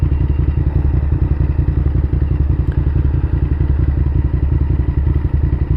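A motorcycle engine runs steadily close by, a loud continuous throbbing rumble with rapid pulsing beats and a slight clattering texture throughout, no voices.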